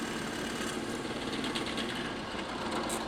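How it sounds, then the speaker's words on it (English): A steady high-pitched motor whine from a drill with a smaller bit boring into scrap wood runs without a break, fairly close, with no voices. "Slightly smaller drill bit."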